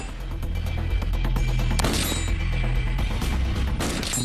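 Three rounds from an M4 rifle fired downrange at a target, loud sharp cracks with booming echo that fill the whole stretch, no talking.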